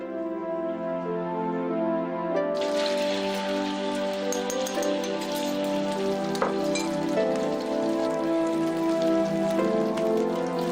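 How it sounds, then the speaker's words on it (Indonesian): An egg frying in a pan gives a steady, dense sizzle and crackle that runs unbroken throughout, loud and close with no talking over it. "Yasin gorengin dulu ya, Kak"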